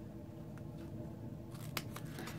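Scissors trim around the edges of a paper die-cut, a few quick close snips near the end over a low steady hum.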